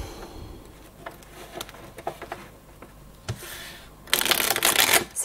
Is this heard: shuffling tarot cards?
yes